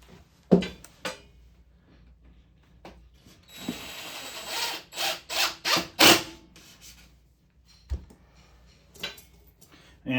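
Wood being screwed during a pinball machine playfield restoration, a close series of rasping, ratcheting turns in a rhythmic burst, then scattered clicks and knocks.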